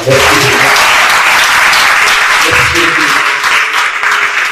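Audience applause fills a large hall at a business gathering in Benin, a dense, steady clapping that stays loud and continuous throughout, with a little voice faintly mixed in underneath.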